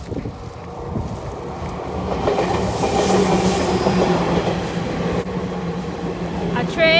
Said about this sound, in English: Oh, the train is passing.